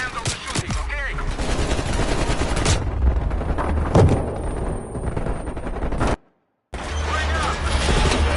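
Sustained gunfire in the Black Ops war campaign video game, dense automatic bursts and heavy blasts layered over engine and battle noise, loud and continuous, with a brief silent gap before the barrage resumes.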